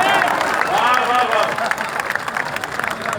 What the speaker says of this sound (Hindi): आखिर तक बजनी चाहिए तालियां